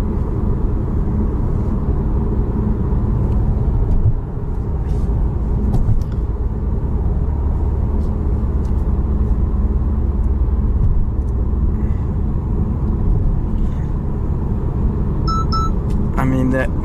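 A BMW M5 Competition with a twin-turbo V8 and xDrive cruises on a wet road at night, heard from inside as a constant low engine and road rumble with faint ticks and clicks.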